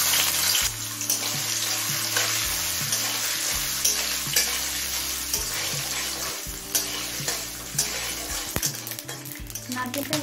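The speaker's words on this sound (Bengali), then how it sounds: "এই তেলে 1 মুঠো নারকেল কুচো ভেজে নেব।" Grated coconut frying in hot oil in a pan while making Bengali kochu shak labra, a steady close sizzle with frequent stirring scrapes and clinks throughout.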